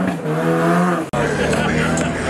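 A Nissan 3.5 turbo race car roars at a street race show. A loud, steady engine note holds on high, then a sharp break gives way to a rougher, noisier roar, all close by.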